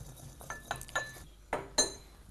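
Roasted cumin seeds are lightly crushed in a pestle and mortar, giving a handful of faint, sharp clinks and grinding knocks spaced irregularly, close and quiet with no talking.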